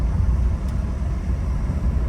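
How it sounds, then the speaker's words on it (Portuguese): A Ford Focus with an automatic gearbox accelerates progressively, giving a low, steady engine drone and road rumble heard from inside the car, constant and moderately loud with no talking. "acelerando progressivamente"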